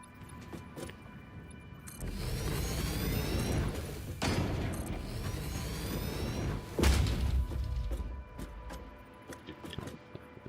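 A hypertube cannon launch in the video game Satisfactory gives heavy whooshing rushes and deep thuds in several long surges, with sharp clicks between them, loud and close.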